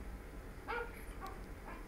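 A single short bark-like yelp from a human voice imitating a dog, heard once over quiet background hum.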